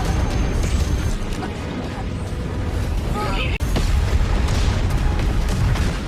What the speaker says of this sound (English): The impact of the strong pressure released by Tuo Lu caused the asteroid to explode